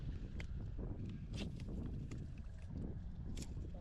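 Steady wind gusts buffet the microphone outdoors while fishing from a boat for bluegill, panfish and small bass, a continuous low rumble with a few brief higher whooshes and no talking.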